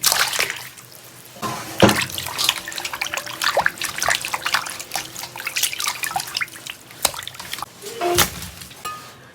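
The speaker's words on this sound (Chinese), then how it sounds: "肉焯好水，洗一下。" A tap runs while blanched pork is washed: steady splashing water with occasional knocks and clatters close by.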